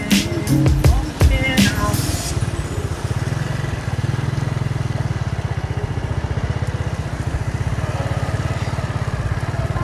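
A motorcycle engine idling and being revved near the water during a bikes-versus-boat test, a steady throbbing pulse running throughout after some sharp clatter at the start, with people talking over it.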